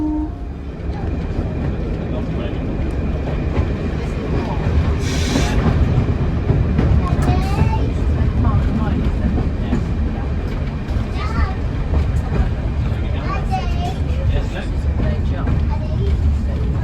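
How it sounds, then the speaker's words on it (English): A Swanage Railway train departs Corfe Castle toward Norden, with a steady, loud rolling rumble and rattle from the carriage as it runs along the line. People talk over the noise throughout. "So we are now departing Cove Castle on the final approach to Norden."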